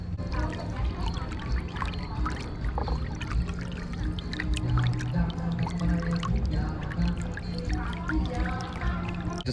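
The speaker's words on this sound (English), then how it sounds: "Just dipped my camera in the river, just cooled it off a little bit" A GoPro camera dipped into a river at a Thai floating market, with steady pouring, trickling water sounds filling the clip and a continuous low boat or engine hum beneath.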